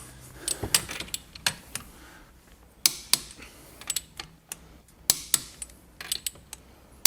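Sharp mechanical clicks and ratcheting snaps from a torque wrench tightening bolts on a Verus Engineering brake cooling kit for an ND2 Mazda Miata, a dozen or so close, irregular clicks in short bursts with no talking.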